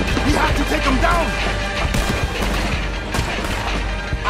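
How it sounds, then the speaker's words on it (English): Rapid gunfire and crashing impacts fill a battle in the video game Red Dead Redemption 2, dense overlapping shots with heavier bangs, continuous and loud throughout. "He's shooting!"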